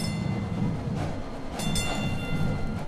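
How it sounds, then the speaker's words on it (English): A DART Orange Line light rail train carrying passengers into Irving rumbles past, a steady loud rolling roar with faint rail squeals and clicks, no voices. "It's the first train full of passengers to travel on light rail into Irving"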